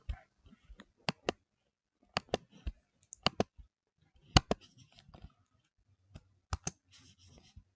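Sharp, sparse clicks of keys being pressed on a computer keyboard while a command is typed, coming in small bursts with quiet gaps, close and fairly faint with no talking.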